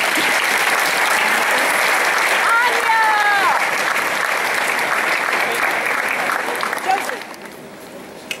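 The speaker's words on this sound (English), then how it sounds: "Let's give them a big round of applause." An audience applauds a junior high school chorus at an eighth grade moving-on ceremony, a steady dense wash of clapping from a full room that holds for about seven seconds, then thins and fades near the end.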